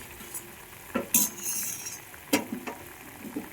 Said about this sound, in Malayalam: അപ്പോൾ നമ്മുടെ മസാലയൊക്കെ നന്നായി തിളച്ച് വന്നിട്ടുണ്ട്.